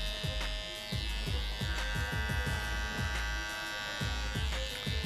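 An electric hair trimmer buzzes steadily up close at a woman's temple line, its motor hum continuous with small rhythmic shifts as it cuts hair down to the skin.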